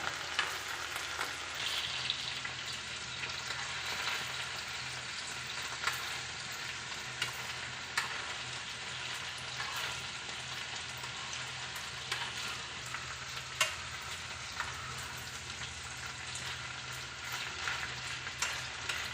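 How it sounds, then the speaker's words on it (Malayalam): Chicken pieces frying in a pan for restaurant-style chicken fried rice, a continuous close sizzle and crackle with scattered pops of oil, steady and alone with no talk. "ഇനി നമുക്ക് മറു സൈഡ് തിരിച്ചിട്ട് വേവിച്ചെടുക്കാം"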